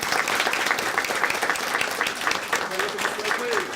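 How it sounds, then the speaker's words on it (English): A loud, full round of applause from a crowd honouring volunteers at a city event, dense continuous clapping throughout with faint voices mixed in. "so give them a great round of applause."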